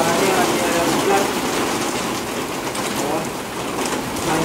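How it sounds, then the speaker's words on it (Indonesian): Steady rain falls outdoors, a dense, even hiss of drops that holds for the whole stretch with no breaks. "Ini suaranya lagi ada hujan."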